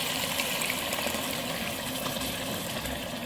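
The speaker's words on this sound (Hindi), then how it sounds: "अब इसमें हम पानी शामिल करेंगे।" Water poured into a cooking pan of chana dal and pumpkin, a steady broadband rush and gush running continuously and fairly loud, with no talk over it.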